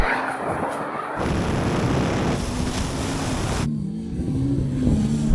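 Cars launching in a drag race, including a Porsche, a Ferrari SF90 and a Tesla Model S Plaid: a loud rushing roar with rising engine tones and wind buffeting, heard close and without speech.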